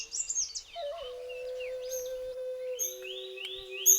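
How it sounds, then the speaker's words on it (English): Malabar whistling thrush singing before sunrise in the Western Ghats, a run of clear, human-like whistled phrases, some rising and some sliding down, close and distinct over a steady background hum, with no talk. "the songs of the Malabar whistling thrush, singing well before sunrise with its wonderful whistles"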